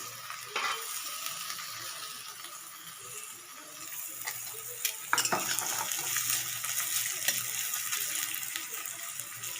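Chopped garlic and ginger fry in a pan with softened onions, making a soft, continuous sizzle broken by a few clicks and scrapes of a stirring spoon.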